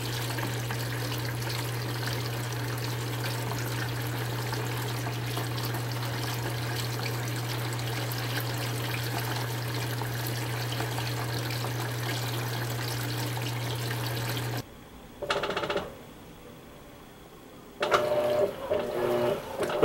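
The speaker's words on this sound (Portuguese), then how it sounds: "agora ela começou a encher para fazer o segundo enxágue" An Electrolux Premium Care 13 kg washing machine (LWI13) fills with water for its second rinse, a steady trickling inflow with a constant low hum that runs for about fifteen seconds, then stops abruptly, leaving brief quieter bursts of running water.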